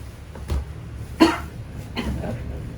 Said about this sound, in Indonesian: Saya batuk nih.